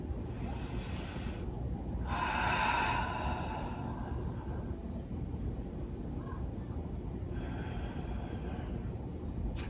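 Slow, soft breaths during a yoga session, exhaling into a forward fold, with a few airy inhales and exhales standing out against a quiet room hiss.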